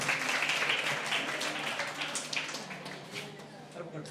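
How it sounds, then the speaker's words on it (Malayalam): An audience at a motivational talk gives a round of applause, a soft, fairly distant patter of clapping that slowly thins out. "നല്ലൊരു ക്ലാപ്പ് കൊടുക്കാം."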